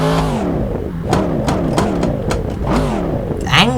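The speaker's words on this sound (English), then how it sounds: "listen to this quad exhaust just works." A quad-exhaust V8 engine revs in the racing game Assetto Corsa, loud and close with no speech, its throaty note rising and falling through repeated blips and a final burst.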